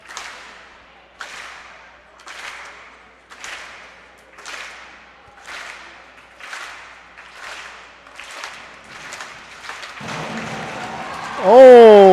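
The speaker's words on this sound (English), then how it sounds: "Cody Krantz getting the slow clap here for the final dive of the evening" A swim meet crowd gives a steady, evenly spaced slow clap, each clap ringing in a large echoing natatorium, about ten beats in a row, before a louder tonal sound cuts in at the end.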